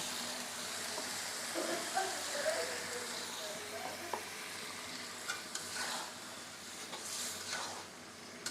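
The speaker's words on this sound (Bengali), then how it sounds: "এই যে সুন্দর করে মশলাটা কষাই নিলাম, আর মাছের মাথা দিয়ে কষিয়ে নেব।" Masala sizzles in a pan as fish heads are sautéed in it, a soft continuous frying hiss broken by occasional stirring scrapes and clinks, with faint voices in the background.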